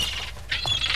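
Bird in the video game No one lives under the lighthouse giving a single brief, sharp squawk, close and moderately loud, over faint background ambience.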